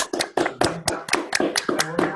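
A few people in an unmuted online audience clap unevenly after a talk, separate sharp claps in a loose, sparse rhythm, sounding close and thin rather than like a large crowd.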